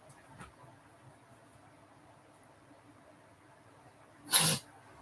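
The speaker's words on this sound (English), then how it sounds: "Sorry, sneezing coming." A single loud, close sneeze bursts out near the end of a quiet room tone, with only a faint earlier breath before it and no talking.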